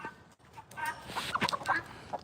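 A tom turkey calls on a farm, a faint, short burst of throaty fowl calls heard at a distance.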